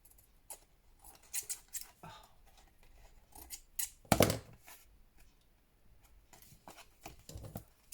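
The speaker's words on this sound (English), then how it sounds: "I'm going to trim it." Scissors trimming paper for a handmade craft folio, a series of quiet close snips in short bursts with one louder cut midway, no talking.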